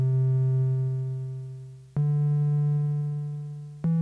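Korg Minilogue synthesizer notes held as steady harmonic tones, each gently fading out on release before the next note starts abruptly, loud and close with no voice.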